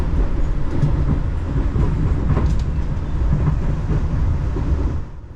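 Luxury train running from Jakarta to Yogyakarta on elevated viaducts through central Jakarta at slow speed, a steady low rumble with soft rhythmic wheel clatter heard from inside, continuous and fairly loud before fading slightly at the end.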